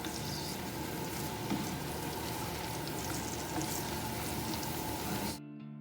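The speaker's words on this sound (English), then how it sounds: "We will start by frying our onions." Steady sizzling crackle of onions frying in a hot pan for Swedish hash (pyttipanna), continuous and close, cutting off abruptly near the end.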